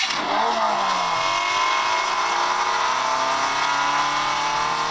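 A RedMagic 9 Pro phone plays its cross-country speed car startup sound effect, a loud synthetic engine that fires up and revs, with steady rising tones sustained throughout and no talking.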